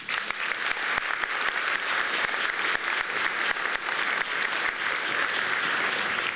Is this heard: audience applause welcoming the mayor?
yes